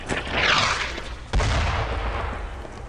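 Mortar fire in the video game Brothers in Arms, a distant whooshing blast followed by a heavier low boom and rumbling aftermath, loud within the game's battlefield ambience.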